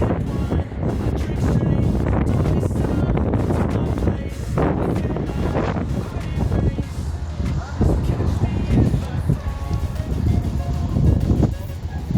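Strong wind gusts buffet the microphone on the Istanbul seafront at Sarayburnu, a loud continuous roar near the water that swells and eases throughout, with muffled talk mixed in.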